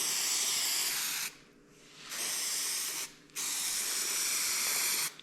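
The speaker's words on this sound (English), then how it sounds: "Using this 3M high strength spray on adhesive." 3M high strength spray adhesive being sprayed during restoration of a 1970 Monte Carlo: three loud, close hissing bursts separated by short pauses.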